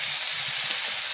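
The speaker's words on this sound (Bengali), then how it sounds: "লাড়াচাড়া করে সুন্দর করে ভেজে নেব" Cauliflower, cabbage and other vegetables frying in a pan with onion and cumin, a steady bright sizzling hiss throughout, close and continuous.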